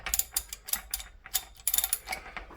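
A ratchet wrench with a socket clicks in quick bursts of rapid pawl ticks, close and crisp with short pauses between strokes, during a main seal install on an air-cooled Volkswagen engine.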